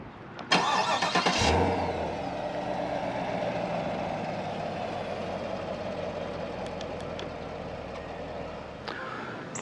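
A 2021 Chevrolet Camaro 2SS Convertible Indy parade car starts by remote, a short cranking burst followed by a steady low engine idle that carries on close and even, with faint clicks near the end.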